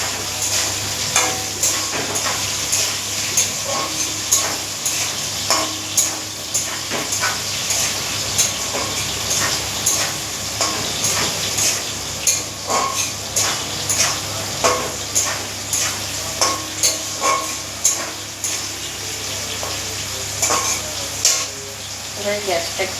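Pasta stirred with a little sugar in a hot pan, a steady sizzle under repeated scraping stirs at a regular rhythm, close and fairly loud throughout, with dishes clinking faintly.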